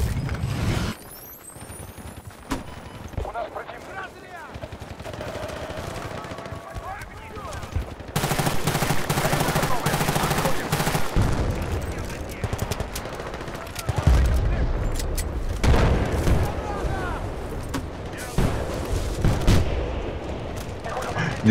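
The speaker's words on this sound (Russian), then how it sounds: "Два пистолетных выстрела хватило, чтобы Беллу потушить." Pistol and other gunfire in the multiplayer shooter Battlefield Bad Company 2, sharp loud shots and bursts repeating through a dense, noisy battle soundscape, with no speech.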